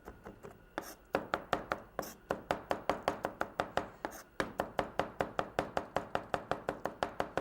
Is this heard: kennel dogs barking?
no